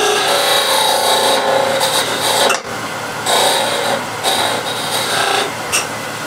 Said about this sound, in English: So I feel the lump in the middle, and I scrape that first, and then pull to the side.